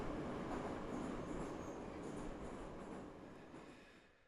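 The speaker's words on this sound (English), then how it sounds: "And back to the train sounds." A steady rumbling train roll with faint squealing wheels, continuous and fairly close, slowly fading toward the end, used as a sound effect in a song.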